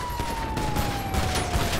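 Rapid gunfire bursts in the police roleplay video game GTA 5 during a chase, crackling shots over a constant background with a faint siren-like tone, no speech.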